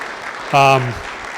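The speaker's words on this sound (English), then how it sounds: "let's give Jason a round of applause" Audience applause after a Michigan DOT presentation on epoxy deck injection at a pavement preservation conference. It is a steady, even patter throughout, briefly overlaid by a sustained tonal voice-like sound in the middle.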